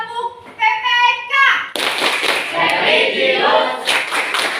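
A school class performs the Tepuk PPK clapping chant, a teacher's voice leading before the group breaks into loud, busy rhythmic hand clapping mixed with children's voices.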